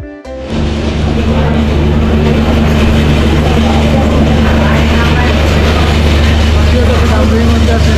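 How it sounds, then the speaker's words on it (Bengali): The Banalata Express pulls into Rajshahi railway station with a loud, close, continuous mechanical rumble and a steady low drone that never lets up. "এই ট্রেন সেই জায়গায় বনলতা এক্সপ্রেস চলে আসছে প্রায় 7টার উপরে।"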